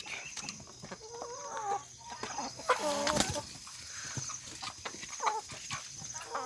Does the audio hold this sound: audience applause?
no